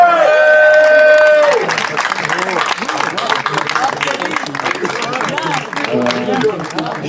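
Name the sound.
audience applause at concert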